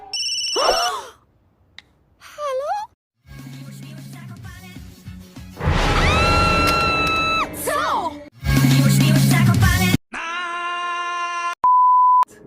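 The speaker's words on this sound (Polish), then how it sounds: "i nagle zadzwonił telefon" A mix of electronic tones and sound effects ends in a sequence of ringtone-like beeps and a steady electronic tone, with sighing and groaning voices earlier.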